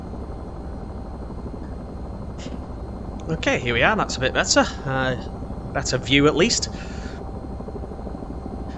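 An AH-94 helicopter in a video game hums with a steady low rotor and engine drone throughout, while someone talks over it in the middle of the clip.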